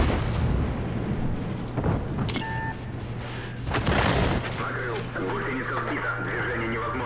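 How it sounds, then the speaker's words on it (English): Tank cannon fire in World of Tanks: heavy booming shots and blasts over a continuous low engine hum, with a couple of brief electronic beeps from the game in between. "Someone's shooting at me."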